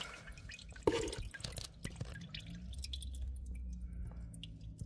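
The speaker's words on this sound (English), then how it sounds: "I'm gonna pull this drain plug on the transmission" Rusty water drips from the transmission drain plug of an old Bumpside Ford truck into a bucket, a few soft, close drips and a small splash over quiet background noise.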